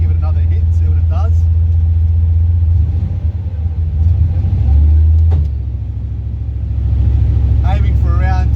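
A turbocharged Holden VK Commodore engine runs on a dyno at about 10 PSI of boost, giving a loud, steady, deep drone that dips and rises again in pitch, with people talking over it.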